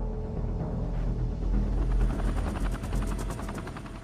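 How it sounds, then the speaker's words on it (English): Loud, steady rotor thump of a large Chinook helicopter nearby dumping water from the air, a deep continuous drone with rapid rhythmic chopping that grows stronger partway through. "Chinook helicopters are drafted in to dump water from the air"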